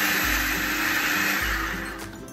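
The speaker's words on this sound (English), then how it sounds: "place them in a food processor and blend until you form a paste" A food processor grinds warm cocoa nibs into paste with a loud, steady motor whir that has a rhythmic pulsing churn underneath, held close and continuous, fading slightly at the end.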